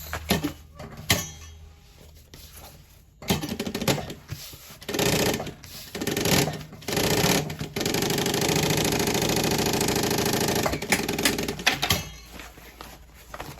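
A sewing machine stitches a pocket on a synthetic pen case, running in several short bursts and then one longer steady run, close and fairly loud.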